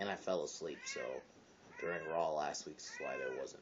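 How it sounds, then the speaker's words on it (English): A cat meows repeatedly, drawn-out wavering cries rising and falling, while a person talks over it nearby. "That's my cat meowing in the background"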